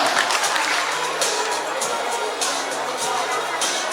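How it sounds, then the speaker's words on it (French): Applause from an audience at a presentation on cacao in French Guiana, a steady broadband wash of clapping mixed with crowd murmur and cheering, continuous and fairly loud throughout. "Vos applaudissements, s'il vous plaît."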